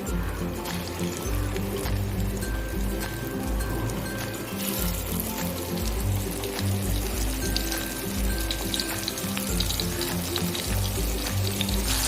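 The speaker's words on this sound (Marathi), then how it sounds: "चला आपण बघूया आता मच्छी फ्राय करूया" Bombil (Bombay duck) fish frying crisp in hot oil in a kadhai, giving a steady, dense sizzle that carries on without a break from start to finish.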